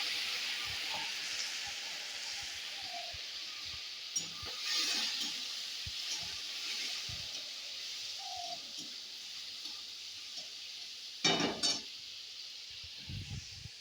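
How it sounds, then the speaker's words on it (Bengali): Potatoes frying in oil with a bay leaf give a steady, soft sizzling hiss that runs throughout, with faint utensil clinks and a brief louder scrape near the end. "প্রথমে তেল, তারপর তেজপাতা দিয়ে আলুটাকে ভাজতে দিয়েছি।"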